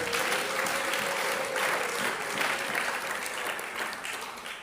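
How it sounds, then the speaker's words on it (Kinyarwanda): A church congregation applauding, a dense, sustained wash of many hands clapping at close range that fades slightly toward the end. "Dushimire Imana, dukomere Imana amashyi, dushimire natwe."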